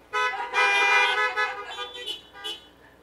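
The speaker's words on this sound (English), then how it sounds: "If you can hear me, honk." Several car horns honk at an outdoor drive-in church service, overlapping toots and longer blasts that come in bursts and then trail off, loud and nearby.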